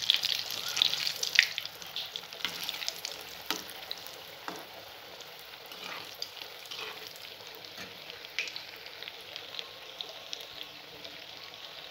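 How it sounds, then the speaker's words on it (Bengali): Fish fingers made from Bombay duck deep-fry in hot oil with a steady close sizzle and scattered crackles, the bubbling livelier at the start and settling into an even hiss. "এবার ডুবো তেলে ভেজে নেব"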